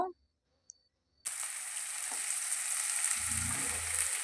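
After a near-silent start with a faint click, onion hits hot oil with mustard seeds in a pan and a loud, steady sizzle takes over, with soft stirring scrapes near the end.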